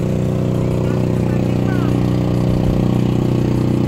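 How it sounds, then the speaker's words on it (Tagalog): A boat motor about to depart drones steadily with a loud, low mechanical hum, running continuously and close by, in Sangayan, Pangasinan. "medyo maingay yung motor kasi aalis na"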